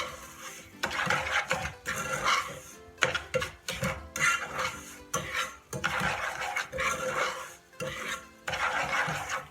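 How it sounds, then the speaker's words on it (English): Sugar stirred in a cooking pot as it caramelizes, a steady scraping and rustling of the utensil against the pot in repeated strokes with brief pauses, close and fairly loud, no voices. "we're going to stir this until the sugar is caramelized"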